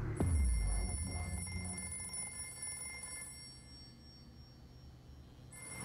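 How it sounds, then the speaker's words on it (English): A telephone rings insistently in a dramatic film scene, a steady electronic ring sustained for several seconds over a low rumbling background, loud at first and then easing slightly. "She's gonna keep on ringing."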